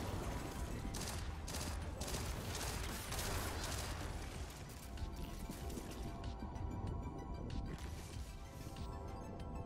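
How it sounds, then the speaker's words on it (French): A tactical laser pulse rifle fires in Destiny 2, producing rapid bursts of crisp repeated shots over dense game noise and rumble, sustained through most of the stretch. "fusil à impulsion, c'est fusil tactique laser à énergie"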